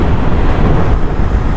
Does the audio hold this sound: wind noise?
yes